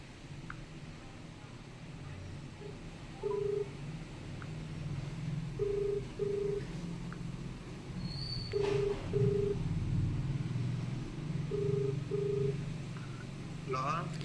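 Short evenly pitched keypad beeps of a phone number being dialed, coming in pairs at intervals over a low background hum, with people talking around them.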